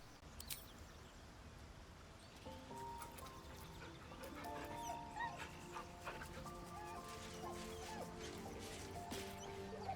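A dog in a video game yips, barks and whimpers while being petted, high excited whines and short yelps overlapping in a busy run that starts after a quieter opening, with faint game sounds beneath.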